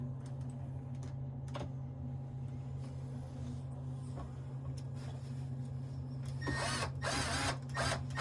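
Screws driven into the metal cover of a CCTV DVR after a hard drive swap. A steady electrical hum runs throughout, with faint ticks, then a louder whirring burst of driving near the end.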